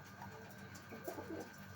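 Pigeons coo softly nearby in a few low, rounded calls over a faint background hum.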